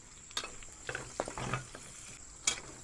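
Garlic and onion hitting hot oil in a pan, giving a low frying hiss with a few sharp stirring scrapes and clinks nearby. There is no talking.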